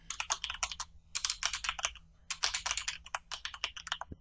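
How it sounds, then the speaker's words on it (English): A computer keyboard is typed on quickly in steady bursts of crisp key clicks while a short message is entered, close and clear, with a brief pause midway. "And here I will type a short message."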